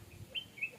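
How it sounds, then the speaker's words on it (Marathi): Birds chirp in a tree beside flowing water at sunset, a few short, high tweets close together over a faint low background. "या झाडावरून येणारा पक्ष्यांचा आवाज किती सुंदर वाटतोय."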